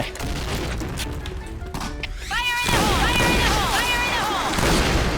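Grenade blast in a first-person shooting video game on a deathmatch map, a loud burst of noise followed by sustained rumbling debris and clatter, mixed with game effects and tones.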